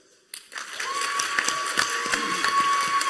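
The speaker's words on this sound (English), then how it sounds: "give a round of applause for Square Enix" Applause starts suddenly and builds into steady, moderately loud clapping from a crowd, continuing without voices.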